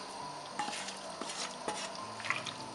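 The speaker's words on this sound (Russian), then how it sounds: "Сейчас сюда же добавляем перцы болгарские." Bell peppers go into a pot of sautéing eggplant with carrots and onion. Steady frying sizzle runs throughout, broken by several sharp scrapes and clinks of a utensil stirring against the pot, with no voices.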